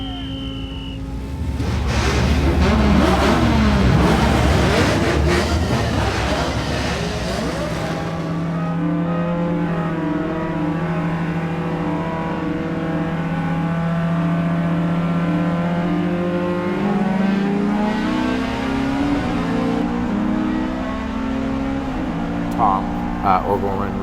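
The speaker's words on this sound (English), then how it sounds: "was driving the ASM S2000" An ASM Honda S2000 race car on a wet track, its engine droning and revving loudly with shifting pitch as it accelerates, under steady talking for most of the clip.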